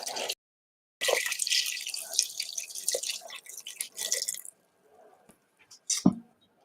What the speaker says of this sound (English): we're just gonna add the rest of our water